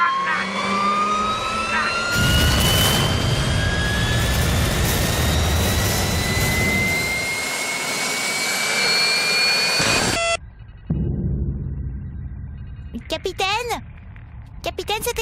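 Spaceship machinery restarting in the video game Mothership to Paradise, a loud rising whine and roar that cuts off abruptly, followed by quieter electronic warbles and tones.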